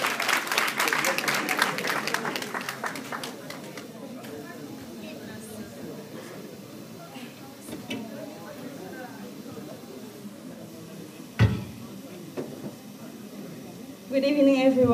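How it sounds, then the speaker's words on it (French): At a Miss Guinea North America pageant, an audience claps loudly for a few seconds at the start; the applause then gives way to a quieter stretch with a person talking. "Applaudissez s'il vous plaît pour la Miss de Guinée."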